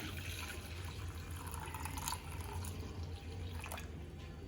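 Hot sugar syrup for gulab jamuns is poured by hand into a container, a steady close-up liquid trickle and splash that runs continuously for several seconds with no talking.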